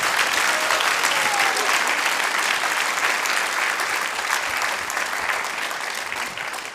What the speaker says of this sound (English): can we give our reciters a massive, massive round of applause?